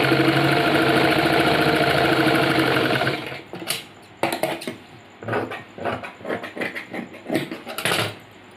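A sewing machine stitching a pant seam, running in a loud continuous whir for about three seconds, then falling to quieter short bursts and clicks of fabric handling, close by with no talk.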